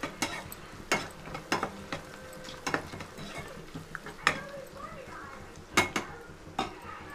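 A spatula scraping and clanking against a pan as flattened rice upma with onions and turmeric is stirred, giving irregular sharp knocks over a faint sizzle.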